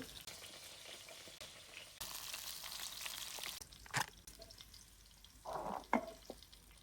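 Okra sizzles faintly in oil with a steady hiss, then quiets; a couple of soft utensil clinks follow near the end.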